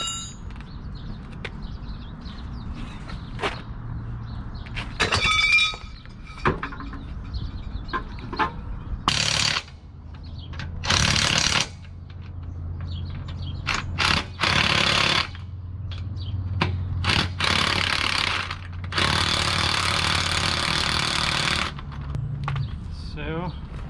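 Wheel going back onto a Nissan Pathfinder after a rear shock replacement, with repeated loud bursts of an impact wrench rattling lug nuts tight, separated by short pauses and clanks of tools, while someone talks in between.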